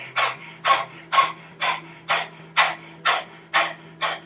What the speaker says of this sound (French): la respiration du lion va te faire énormément de bien